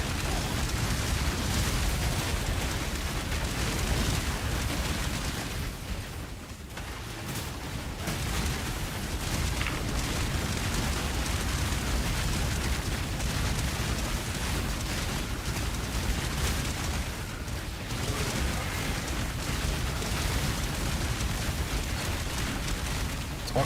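Toxic Rain skill effects in Path of Exile erupt as a dense, continuous barrage of bursts and booms, loud and unbroken, with brief dips in intensity.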